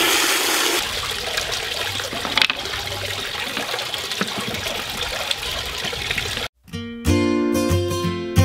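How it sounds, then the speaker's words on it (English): Water gushes and splashes steadily while rinsing rocks for a garden pond, a close, loud rush that cuts out briefly near the end before resuming. "what I'm gonna have to do is just rinse them off real quick so we don't get all that kind of dust and powder inside the pond"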